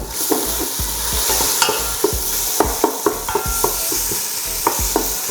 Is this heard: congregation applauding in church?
no